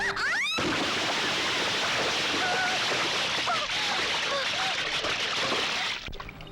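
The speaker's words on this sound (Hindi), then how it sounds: "अरे तुमने इसे उठाकर पानी में फेंक दिया" A person thrown into water in a dubbed action movie scene, a loud sustained rush of splashing water and churning noise filling the scene, with faint cries and voices mixed in, ending abruptly.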